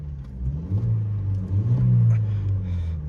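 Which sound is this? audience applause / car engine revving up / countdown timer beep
car engine revving up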